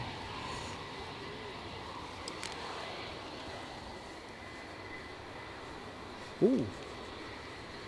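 A Ryanair jet departs Edinburgh Airport with a steady, moderate engine roar in the distance. A voice gives a brief exclamation near the end.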